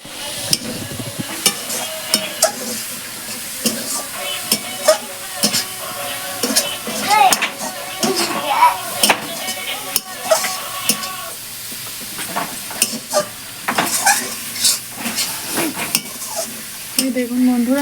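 Chopped garden-picked kalai shak greens stirred in a wok, a steady run of scraping and clinking spatula strokes over a soft sizzle, close and fairly loud.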